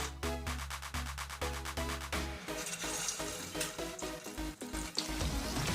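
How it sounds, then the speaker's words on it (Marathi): Semolina medu vadas are dropped one by one into hot oil and begin frying with a steady crackling sizzle, under background music that plays throughout. "आता आपण यामध्ये एक एक करून असे वडे सोडून घेऊया।"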